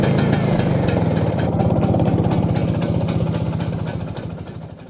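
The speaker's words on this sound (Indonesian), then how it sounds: "ini salah satu bunyi suara Vespa yang knalpotnya ini sudah bukan orisinil" A Vespa 150 Super two-stroke scooter engine with a non-original modified exhaust idles and revs with a raspy, tinny exhaust note and rapid popping pulses, loud and close, fading slightly at the end.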